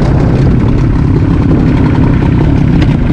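A loud, continuous rough engine rumble from a small aircraft-type motor running on the ground before takeoff, steady and close throughout with no talk.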